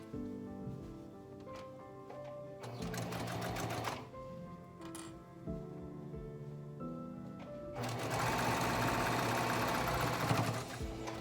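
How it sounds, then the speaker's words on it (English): A sewing machine stitches fabric for a bowl koozie, running close and steady in several bursts with short pauses between them, then a long continuous run to finish near the corner. "So I'm gonna sew straight until I get to the corner."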